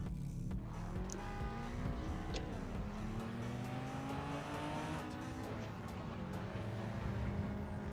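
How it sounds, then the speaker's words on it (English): A Mark IV racing car engine drifting in a video game roars and whines continuously, revving up and down with a whistling turbo tone, loud and close throughout. "I can still hear the turbo though"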